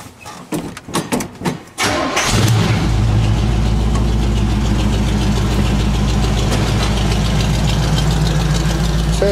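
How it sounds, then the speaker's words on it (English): Wrecker truck with a small block Chevy 350 and loud dual exhaust: starter cranks in several rhythmic bursts, then the engine fires and settles into a loud, steady, rumbling idle up close. "I'll even start it up for y'all. We got glass patch on it, dual exhaust, loud."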